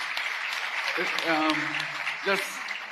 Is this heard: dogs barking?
no